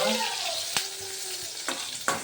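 An egg frying in a pan for a home breakfast, giving a steady broadband sizzle with a few sharp clinks and stirring knocks; nobody speaks.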